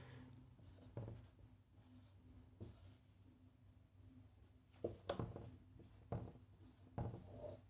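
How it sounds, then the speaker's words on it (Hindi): A pen scratches on paper while multiplication is worked out by hand, giving faint, soft strokes with a few sharper taps in the quiet, and no talking. "मैं इसको लिखूँगा, गुणा कर रहा हूँ मैं"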